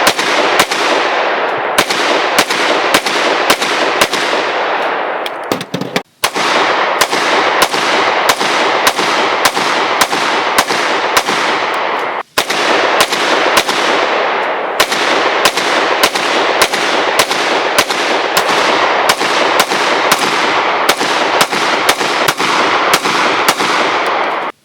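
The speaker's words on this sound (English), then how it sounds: "so we could do some shooting" Gunshots from a Ronin 10mm pistol, fired in rapid, regular strings of loud, sharp cracks with two short pauses between volleys and no talking.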